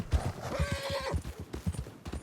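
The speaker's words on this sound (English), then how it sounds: "Calm the horse down." Horse hooves clip-clop rhythmically alongside a sharp neigh and whinny in the Red Dead Redemption video game, near and fairly loud with no talk over it.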